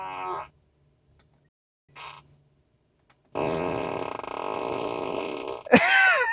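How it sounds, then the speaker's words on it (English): A Tesla's whoopee cushion sound effect, played through the car's speakers. A short blatty burst is followed by a long, loud, buzzing fart lasting a couple of seconds that ends in a squeaky flourish. "You can set this like a whoopee cushion, so when someone sits in the passenger seat, it'll make a farting sound."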